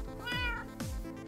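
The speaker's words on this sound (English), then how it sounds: "I heard a kitty." A Minecraft cat meows twice in quick succession, the calls clear and close, with a faint steady hum underneath.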